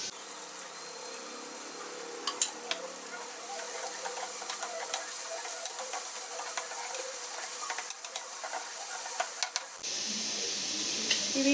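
Chopped onions fry in a pan for a soya chunks curry, giving a steady broadband sizzle with occasional stirring clicks. The texture changes sharply near the end, and no one speaks.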